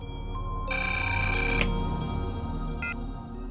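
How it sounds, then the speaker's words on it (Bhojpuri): A telephone rings in a domestic scene, with a couple of electronic ring bursts standing out over a steady low hum and no one speaking. "फोन तो उठावा।"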